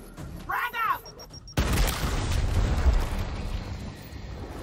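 A frag grenade detonates in the video game Gears Tactics: after a short spoken line, a sudden loud blast erupts and leaves a dense, rumbling tail that fills the rest of the moment.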